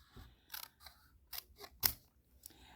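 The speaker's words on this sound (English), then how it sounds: "Now we're going to take our paper snips or whatever craft scissors that you use." Paper snips or craft scissors cutting paper ribbon, giving a few short, close, crisp snips at irregular intervals with quiet pauses between them.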